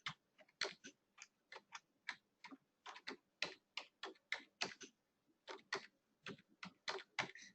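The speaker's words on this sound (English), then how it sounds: "I'm going to type it in the chat for you." Rapid typing on a computer keyboard, a steady run of close, crisp key clicks with brief pauses, heard alone in a quiet room.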